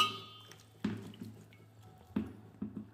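Water splashes while freshly churned butter is being washed by hand: quiet, close splashes and drips in a few short bursts, spaced apart.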